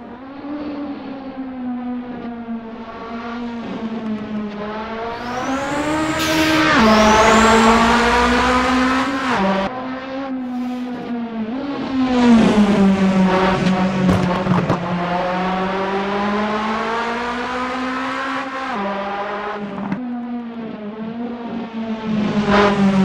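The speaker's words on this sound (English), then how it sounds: "The Ford Zakspeed Capri from DRM Revival for Assetto Corsa." A Ford Zakspeed Capri race car in Assetto Corsa, its loud engine howling alone throughout, climbing and dropping through the revs with gear shifts and a brief tire squeal.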